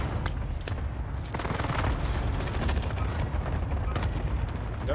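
Cluster strike explosions rumble in Call of Duty Warzone, a dense, continuous barrage of booms and gunfire crackle that stays loud and close throughout without letting up.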